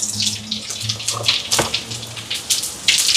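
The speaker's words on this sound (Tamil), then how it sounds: "இங்கே எண்ணெய் சூடாயிட்டு கடுகு சேர்ப்போம் பெருஞ்சீரகம்" Mustard seeds and fennel seeds sizzle in hot oil. The crackling hiss is close and fairly loud, with scattered pops.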